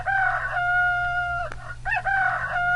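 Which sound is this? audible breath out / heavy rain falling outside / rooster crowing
rooster crowing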